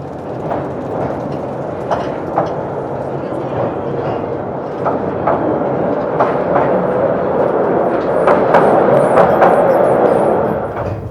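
A mine train rolls along its rails on a mining-site tour, a steady loud rumble with rhythmic clicks building in intensity toward the end, voices faintly present.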